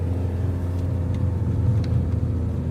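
Renault camper van engine labouring steadily uphill in second gear on a long mountain climb, a constant loud low drone with road rumble heard from inside the cab and no talk.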